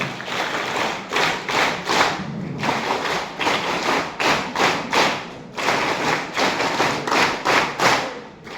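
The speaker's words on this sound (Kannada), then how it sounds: "ಯಾಕೆ ಚಪ್ಪಾಳೆ ತಟ್ಟಿದ್ರಿ ನೀವು ಹೇಳಿ?" Students at a Karnataka Public School in Napoklu clapping loudly in unison, crisp bursts grouped in quick sets of three that repeat over and over, a large group heard up close with no talk.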